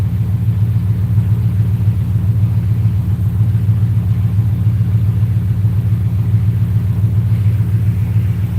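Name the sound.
4.6 engine idling at 850 rpm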